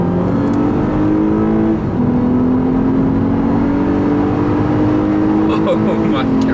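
A 2014 Lexus IS350 F Sport accelerating hard in Sport Plus mode, the engine note climbing steadily, easing briefly around a gear change, then rising again loud and close from inside the cabin.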